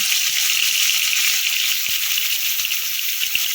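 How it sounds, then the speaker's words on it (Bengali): Cauliflower fries in mustard oil in a wok, a loud, steady, close sizzle that continues throughout, with faint stirring taps underneath. "কপিগুলো হালকা করে ভেজে তেলে নেবো"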